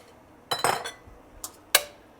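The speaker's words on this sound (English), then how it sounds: "So now we'll add our cooked hamburger meat to this dish." Cooked hamburger meat tipped into a baking dish for pastelon, heard as a few close clinks and scrapes of a utensil against the dish: a cluster of knocks early on, then two sharper taps spaced apart.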